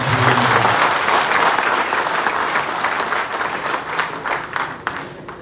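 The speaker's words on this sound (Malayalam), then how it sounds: "പ്രശാന്ത് ശിവനെ നമുക്ക് എല്ലാവർക്കും നിറഞ്ഞ കയ്യടിയോടുകൂടി" Sustained applause from a gathered crowd welcoming a newly installed district party president, dense clapping throughout that gradually thins and softens toward the end.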